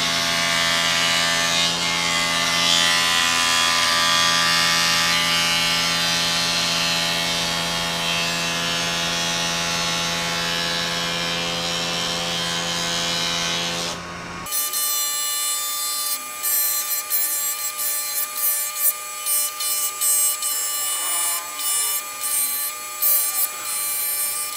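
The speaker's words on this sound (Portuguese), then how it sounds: "A ideia aqui é lixar o mais próximo possível da linha, mas não chegar na linha." Wooden skateboard deck being sanded close to a pencil line by hand, a steady loud abrasive buzz of a power sander for about fifteen seconds, then lighter, intermittent scraping and rubbing without talk.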